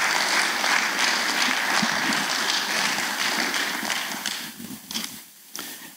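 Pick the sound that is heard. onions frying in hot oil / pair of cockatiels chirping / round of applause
round of applause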